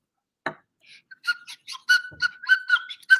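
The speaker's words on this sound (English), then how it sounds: "Cue that slide whistle" A series of short rising and falling whistle tones, sliding up and down in quick playful bursts, clear and alone.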